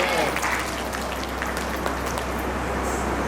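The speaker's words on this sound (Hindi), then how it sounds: "बार ताली बजाकर तो सच्चे दरबार की" An audience at a devotional jagran gathering claps together in a continuous, dense wash of applause that stays steady and fairly close for a few seconds.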